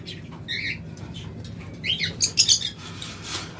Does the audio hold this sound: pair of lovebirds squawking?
yes